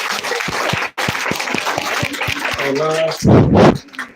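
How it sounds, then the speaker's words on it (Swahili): A church congregation claps together, giving a run of sharp, evenly spaced claps in a roomy space, with voices speaking over it near the end. "Tupigie Yesu makofi mazuri."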